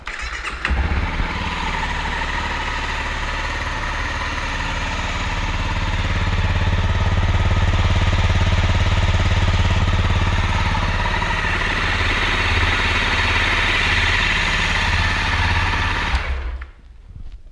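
A cold engine starts up and idles through a big, heavy exhaust with a thin, whiny, lawnmower-like drone, loud and close, holding steady for about sixteen seconds before cutting off abruptly.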